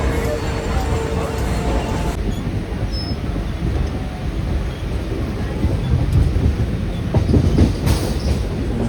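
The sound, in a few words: Mumbai local train arriving and running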